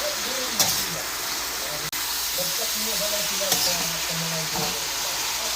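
Chicken feet frying in a pan, giving a loud, dense, continuous sizzle and spatter with a low hum underneath, a sharp tap partway through and faint speech in the background.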